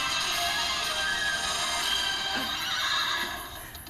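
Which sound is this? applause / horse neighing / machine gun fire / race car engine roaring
horse neighing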